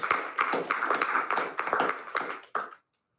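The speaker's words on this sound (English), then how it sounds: "I want to give them a round of applause." Brief round of applause at a school board meeting, a small group clapping in short bursts for under three seconds before stopping abruptly into silence.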